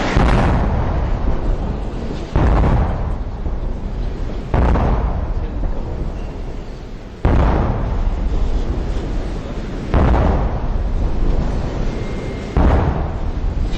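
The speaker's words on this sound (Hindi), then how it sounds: "तोपों की आवाज गूंजने लगी" Five heavy cannon booms of a gun salute at a presidential swearing-in go off one after another at intervals of roughly two to three seconds, each ringing out and echoing before the next.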